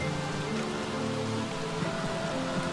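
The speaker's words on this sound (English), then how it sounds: "The rain is loud." Video game rain patters steadily, a moderate, continuous hiss of drops with faint tonal game sounds drifting underneath.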